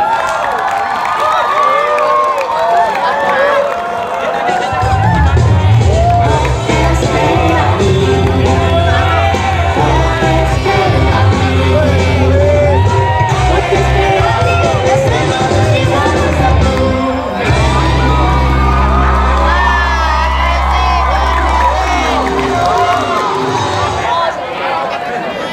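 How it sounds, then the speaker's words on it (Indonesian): Students at a high school talk show event applaud and cheer, a loud sustained crowd roar with clapping and shouts, while a loud amplified voice and music-like tones run underneath for much of the time. "Beri tepuk tangan semuanya."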